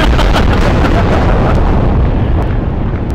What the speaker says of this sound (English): Now that's artillery.